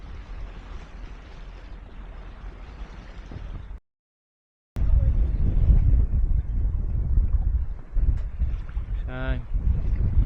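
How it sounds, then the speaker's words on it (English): A sailboat running downwind on Loch Ness, with steady wind rush and water noise over the hull, broken by a brief total dropout, then continuing with low rumbling gusts close to the microphone. "sailing down Loch Ness now"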